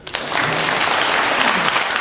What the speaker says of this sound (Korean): 야구는 박수 한번 치세요.